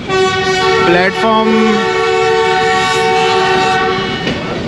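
The Ravi Express pulls into the Lahore Junction railway yard, its horn sounding loud and sustained for several seconds, then fading over a continuous close rumble of the moving train.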